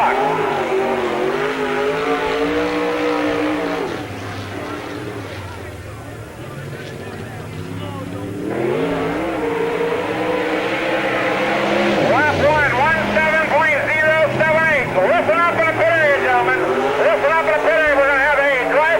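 A race car qualifying on the Spoon River Speedway dirt track in the evening during the 1998 Summer Nationals, its engine note rising and wavering, dipping briefly then revving hard again, with an announcer speaking over it on the loudspeaker.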